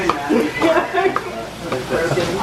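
Ground sausage sizzles and fries in a pan with a steady hiss while a spoon stirs it, and people talk close by over the cooking.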